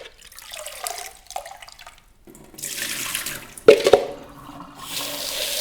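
Water sloshes and swirls around inside a sprouting jar during rinsing in several uneven bursts, with a sharp knock midway and a final splashing pour.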